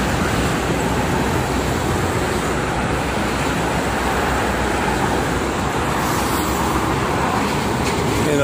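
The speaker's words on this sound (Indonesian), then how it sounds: "situasi arus lalu lintas pagi ini di Tol Jakarta Cikampek kilometer 58." Steady, dense roar of morning traffic on the Jakarta-Cikampek toll road at kilometer 58, a continuous wash of cars, buses and trucks passing nearby with no break or lull.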